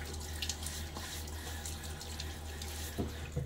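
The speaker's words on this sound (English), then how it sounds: "So we'll throw a little water on my face" Tap water runs steadily into a sink as water is splashed on a face before a wet shave, with a few small splashes and drips over a constant close flow.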